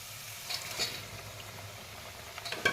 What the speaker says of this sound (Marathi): आता आपण ही कोळंबी पण परतून घेऊया छान अशी